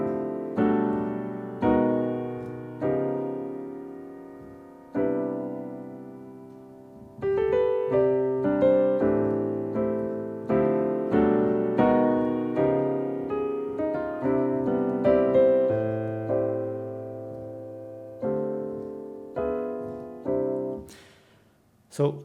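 Jazz piano chords move through a sequence of shifting minor-third steps, each chord struck and left to ring, played alone at a relaxed pace.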